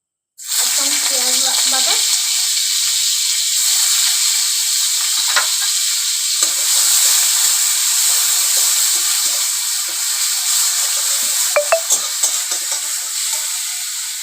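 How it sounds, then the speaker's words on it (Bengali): Onion paste drops into hot oil in a pan and erupts into a loud, sudden sizzle that keeps hissing strongly and evenly, with a few brief clicks of stirring near the end. "তেল গরম হয়ে গেছে আমি এখানে দিয়ে দেবো পেঁয়াজ বাটা"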